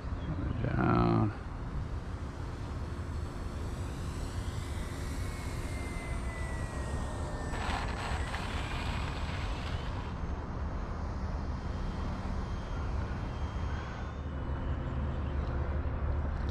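A Flightline Spitfire MK.IXc 1600mm RC model plane flies on approach at reduced throttle, giving a continuous engine drone with a faint whine that slowly slides in pitch. A brief louder burst comes near the start.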